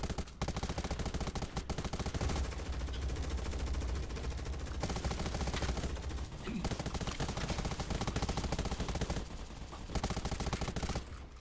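Rapid bursts of automatic gunfire in the zombie survival video game Undawn, loud and near, with dense repeated volleys, short pauses and a few voices talking over the shooting.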